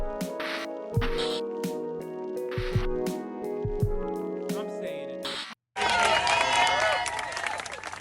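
Colleagues leaving the US Centers for Disease Control are clapped out by staff in a sustained round of applause, with a crowd's clapping and cheering swelling near the end after a brief pause, under music.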